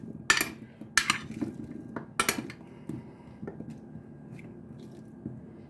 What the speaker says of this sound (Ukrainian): Змащу трошки олією, щоб гарно спеції пристали помішаю трошки.